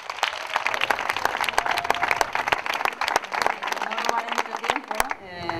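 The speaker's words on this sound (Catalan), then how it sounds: "demanaria un fort aplaudiment per acollir-la" A small audience gives sparse, distinct hand claps to welcome a women's ultramarathon runner at a race event in Valldoreix, fairly close, with voices chattering underneath and the clapping ending as talk begins.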